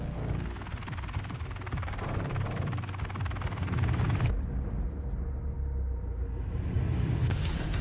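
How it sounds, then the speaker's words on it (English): Video game helicopter sound effect: a steady rotor drone with rhythmic thumping and dense background rumble, fairly quiet, continuing after an abrupt shift midway; no speech. "The helicopter sound will slowly come in."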